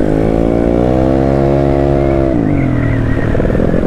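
A 200cc Yamaha Mio motorcycle revs loudly and steadily up close, its engine note climbing and then dropping as the throttle shifts partway through.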